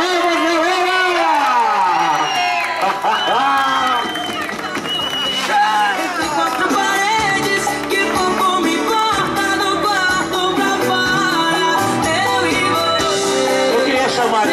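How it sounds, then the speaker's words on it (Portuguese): A dense birthday surprise crowd in Guarulhos cheers, claps and chatters loudly throughout, a continuous wall of voices and applause with music mixed in. "Uma salva de palmas, galera!"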